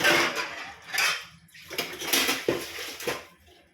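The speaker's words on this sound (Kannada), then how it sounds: "ಪಾತ್ರೆನ ಮುಚ್ತೀನಿ ನಾನು" A metal cooking vessel being covered with its lid, heard as a close clatter and scrape of metal on metal in a few short bursts.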